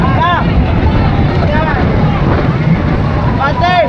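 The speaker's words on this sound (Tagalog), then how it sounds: "bigla po lumakas yung hangin kasi yung dilim pumunta na rito" A constant roaring rush of strong wind buffets the microphone throughout, with faint tonal whines rising over it now and then.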